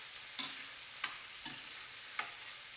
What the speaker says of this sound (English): As soon as the shrimp goes into the pan, I raise the heat a little bit